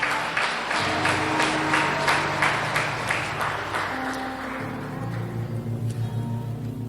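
A church congregation applauds during a communion service with steady rhythmic clapping in the first seconds that thins out and fades, while sustained organ or keyboard tones play underneath.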